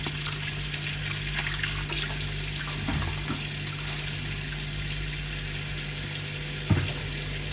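Tap water runs steadily into a pot of rice being prepared for cooking, a continuous near rush with a constant hum underneath and a few brief clinks.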